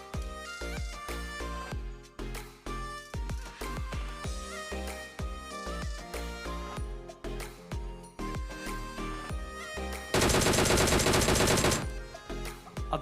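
Gunfire in an online shooter game in which an opponent carries an AKM rifle: a run of sharp, evenly spaced shots over a musical background, then a dense rapid burst near the end.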